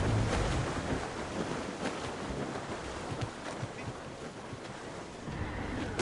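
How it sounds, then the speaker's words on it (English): Strong wind and rushing sea surge around a sailing ship in the video game Assassin's Creed Rogue, a loud continuous roar of gusts and waves with no talk. "Wind's getting vicious."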